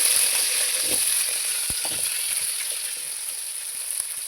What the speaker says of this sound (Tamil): எண்ணெய் சூடானதும் எண்ணெயில் வெங்காயம் வச்சுருக்கோம்